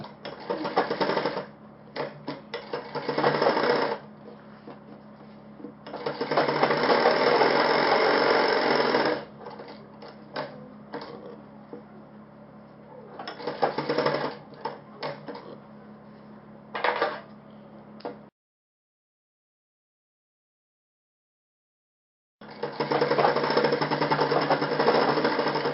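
An electric sewing machine stitches a cuff onto a shirt sleeve. Loud, close whirring runs in bursts of varying length, broken by short pauses and a few seconds of silence.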